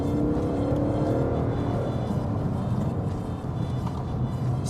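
An Alpina D3 Biturbo accelerates hard along a short straight, its engine a steady, loud, close drone that holds throughout from inside the car.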